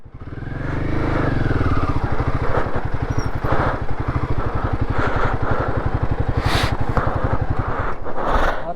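A motorcycle rides along an icy, black-ice mountain road, its engine a loud steady close-up drone with rapid low pulsing and occasional clatter throughout.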